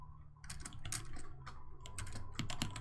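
Quick typing on a computer keyboard, a close burst of crisp keystroke clicks in irregular clusters over a few seconds with a faint background hum.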